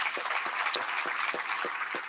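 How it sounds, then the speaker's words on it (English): Audience applause for soccer honorees at a hall of fame induction ceremony, a dense steady wash of clapping with a few louder claps standing out, sustained evenly throughout with no talking. "Let's give them a round of applause."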